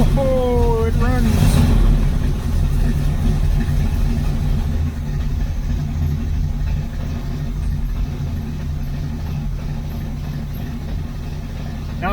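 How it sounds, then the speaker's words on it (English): Rough, rumbling idle of a 1979 Corvette C3 engine with a blown-out muffler, loud and steady throughout, with a brief rising mechanical whine near the start. "it's not going to sound real great because it's got a blown out muffler"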